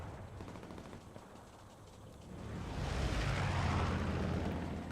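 MG42 machine gun fire amid a Hell Let Loose battle, a distant rattle at first that swells into a loud, dense roar of gunfire and rumbling over the last half, no voices.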